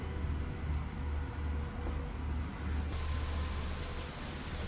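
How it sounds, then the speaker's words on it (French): Steady rain falls in a continuous soft hiss, with no voices or other distinct sounds. "Je fais tomber de la pluie"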